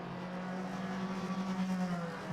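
GT3 race cars at the Imola circuit, a steady engine drone holding a sustained pitch at moderate distance, with no talk over it.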